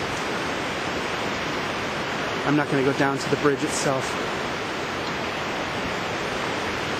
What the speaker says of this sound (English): I don't know if you're going to be able to hear me over this water. The river is very loud right now.